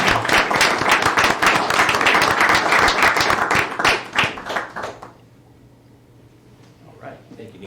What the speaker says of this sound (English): our small business owners and Neil Harris a great big round of applause.